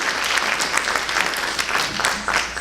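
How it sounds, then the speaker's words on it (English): An audience applauds at a dance debut performance, dense steady clapping from a crowd sustained close and loud throughout. "So another round of applause for them."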